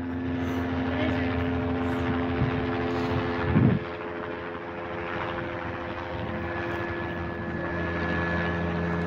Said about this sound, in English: That's one of the CHP choppers.